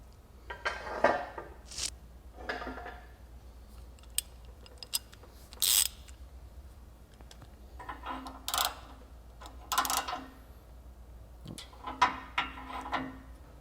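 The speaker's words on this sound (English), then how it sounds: "we can go ahead and run up a little bit more pressure on it and then remove the compression tool" Torsion key compression tool on a Hummer H2 being worked with a ratchet, giving repeated bursts of clicking and metallic clanks spread across the span at close range, with no talking.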